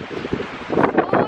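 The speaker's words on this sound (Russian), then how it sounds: "Ветер дует." Strong wind on the Costa Brava coast buffets the microphone in uneven gusts, loud and close, with a rougher surge near the end.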